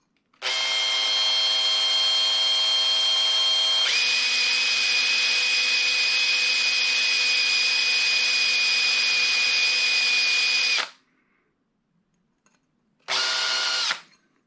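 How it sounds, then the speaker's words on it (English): A power drill with a 4 mm bit whines steadily for several seconds while countersinking holes, its pitch dropping partway through, then stops; after a pause a short second burst follows. "We are again using the 4 millimeter drill bit"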